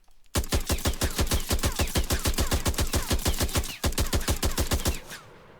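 Automatic gunfire from a weapon in an Unreal Engine 4 game, a long rapid and even stream of loud close shots, briefly interrupted once, then stopping with a short fading tail.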